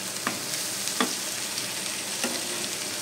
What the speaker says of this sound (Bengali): খুলে আবার নেড়ে দিচ্ছি।